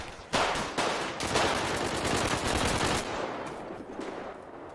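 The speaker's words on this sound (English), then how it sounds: "They came around this joint firing." Rapid automatic gunfire in a GTA roleplay game, sustained bursts of close, loud shots rattling for several seconds before tapering off.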